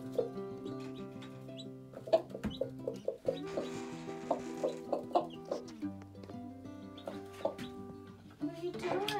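Brahma hen clucking steadily with her chicks, short soft clucks in an uneven rhythm close by, with chick peeps and a few louder calls mixed in.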